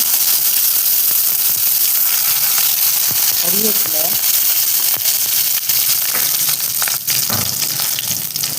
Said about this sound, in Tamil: எண்ணெய் காய்ஞ்சதும் கடுகு போட்டுக்கலாம் கடுகு மூணு காஞ்ச மிளகா உடச்சி போட்டுட்டேன்